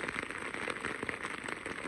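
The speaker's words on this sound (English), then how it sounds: "it is really raining, as you can see the rain coming off of that" Steady rain patters onto a makeshift tarp tent sheltering a camp in big Yukon backcountry, a dense, even hiss of drops close overhead with no voices.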